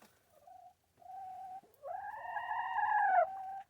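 Several soft clucks and drawn-out warbling calls from heritage breed chickens, close by, rising into a longer, louder crooning call before tapering off.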